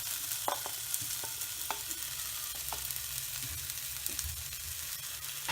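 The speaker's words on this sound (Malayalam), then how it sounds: "ഇനി നമുക്ക് ഇതിലേക്ക് വേവിച്ച് വെച്ചിരിക്കുന്ന കായ ഇട്ട് കൊടുക്കാം." Boiled raw plantain tossed into chillies frying in oil for a Kerala plantain stir-fry, then stirred: a steady low sizzle with a few sharp spatula scrapes and taps against the pan, close and with no voices.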